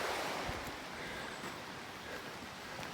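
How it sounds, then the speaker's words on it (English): Flat Laurel Creek, a mountain stream in the Shining Rock Wilderness, flowing as a steady broadband rush of water, close and continuous with no talking. "we're hiking parallel along Flat Laurel Creek now"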